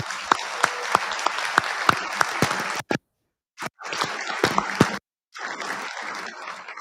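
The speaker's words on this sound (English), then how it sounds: "would you please join me in a final round of applause for our award recipients" Applause from an awards dinner audience for award recipients at an MCA installations and logistics event, a dense crowd of clapping with sharp individual claps standing out, broken by brief silent gaps between sections.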